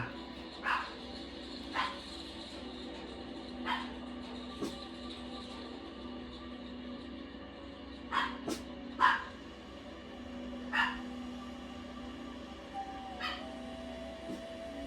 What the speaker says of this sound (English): Forgive the dog barking.